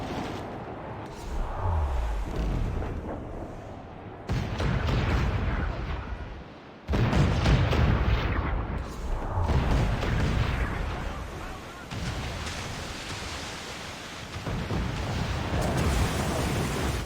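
Ship cannons fire in a naval battle in Assassin's Creed IV: Black Flag, heavy booming blasts and rumbling impacts repeating across the scene, layered with dense battle noise and shouting crew voices.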